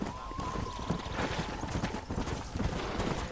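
Horse hooves clip-clop at a steady trot in the Western video game Red Dead Redemption, a continuous rhythmic clatter with a faint tone and soft background ambience.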